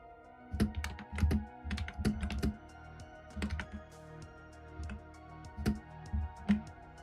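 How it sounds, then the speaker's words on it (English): Keys clatter on a computer keyboard in quick irregular bursts of close, crisp clicks, with short pauses between runs. "I'm typing to you guys."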